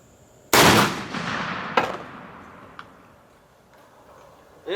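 A single loud, close shotgun blast firing heavy turkey loads outdoors, with a sharp onset and a long decaying echo, followed by a smaller click and a faint tick, no talking.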